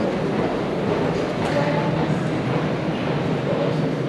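Continuous low rumble and roar of a Waterloo and City line underground train running through a tunnel, steady and fairly loud throughout with no speech.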